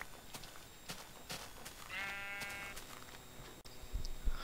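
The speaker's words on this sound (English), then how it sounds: "I'm just going to punch some sheep real quick" Sheep bleat in the Minecraft video game, a single short wavering bleat amid light clicking and punching sounds of play, fairly quiet and with no talking.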